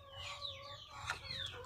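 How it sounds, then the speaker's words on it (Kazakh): A broody hen clucks close by, quiet drawn-out calls and soft murmurs in a faint, steady sequence. "Осындай тауығым күрік болып қалды."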